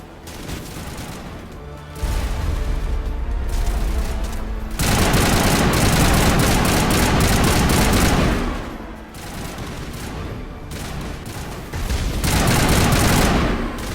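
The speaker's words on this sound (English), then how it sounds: "Williams, can you see anything? What are you shooting?" Heavy gunfire in a Mass Effect firefight: long, dense bursts of rapid shots in loud waves with brief lulls between them, close and continuous.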